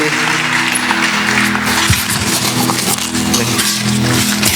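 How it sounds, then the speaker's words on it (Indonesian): A church congregation claps together in praise after a call to applaud, a loud, steady wash of hand claps filling the room with a low hum beneath it. "Berikan tepuk tangan buat Tuhan Yesus."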